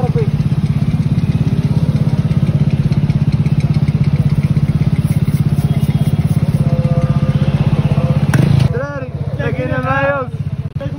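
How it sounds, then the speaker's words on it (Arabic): A motorcycle engine running steadily on a test ride, a loud continuous buzzing drone that cuts out abruptly near the end, after which someone speaks over quieter background. "فاش كنبدا نسوق هذا الموطور"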